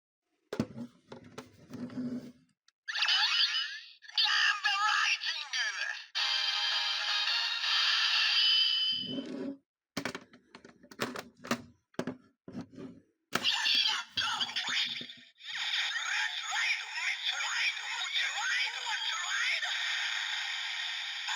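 Kamen Rider Gashat sounds played through a toy transformation driver: clicks and brief jingles followed by long bright electronic fanfares and announcer-style calls, close and loud, without talking.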